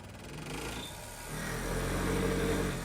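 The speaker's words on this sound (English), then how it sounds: "allows you to rev the engine while the truck's stationary" A simulated engine sound from a stationary Tamiya Grand Hauler RC truck idles, then revs up into a louder, sustained drone with a low rumble and slight vibration, fairly close and without talk.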